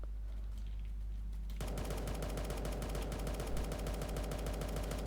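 Machine gun in a Roblox game fires in a loud, sustained rapid burst that starts abruptly and keeps going steadily to the end, with no talk over it.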